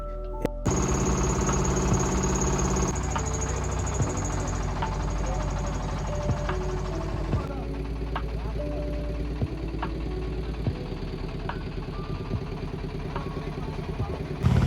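A steady, droning trawler boat engine runs throughout with a low, even rumble and some rattling, loud and continuous, on the way to Guliakhali sea beach, Sitakunda.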